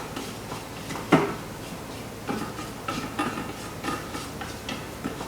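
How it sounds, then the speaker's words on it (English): A spatula scrapes down the side of a Thermomix bowl: several short, soft scraping and tapping sounds at irregular intervals, faint against a quiet background. "I'm just going to scrape down the bowl, on the side of the bowl."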